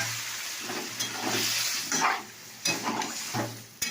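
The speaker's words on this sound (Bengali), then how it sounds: "এরকম আমি ডাল আলু সেদ্ধটা দিয়ে দিচ্ছি" Boiled lentils and potato go into a pan of frying spices, with soft sizzling, scraping stirs and a few spoon clinks against the pan, close and fairly quiet, in several short bursts.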